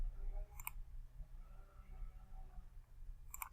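Two quiet computer mouse clicks selecting a spreadsheet cell, one early and one at the end, separated by soft room hiss.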